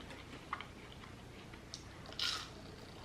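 Someone eating a crunchy Culver's fast-food meal makes soft, close chewing and crunching sounds, with a few sharper crackles and a rustle of paper, quiet and without talk.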